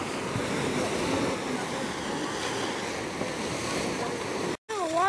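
A waterfall in the Mud Volcano Area roars as a steady, broad rushing wash of water. It is continuous and fairly loud, with a brief dropout near the end.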